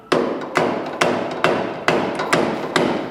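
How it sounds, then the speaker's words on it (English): Repeated hammer blows on a truck's engine mount, about seven sharp metal strikes at a steady rhythm, close and loud, each with a short ringing decay. "The hammering definitely made it work."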